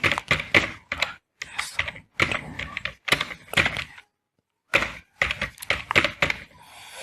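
Rapid bursts of keystrokes on a computer keyboard as a form is filled in, close and crisp, with short pauses between runs and a longer gap midway.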